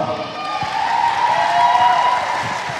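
Audience applause at a community gathering honoring local police, a steady wash of clapping from a crowd with some cheering and voices mixed in, holding fairly even throughout.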